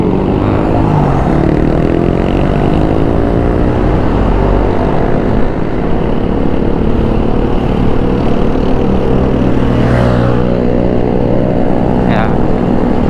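Motorcycles carrying holiday homecoming travelers drone steadily along a busy road, their engines rising and falling close by as someone talks over the traffic.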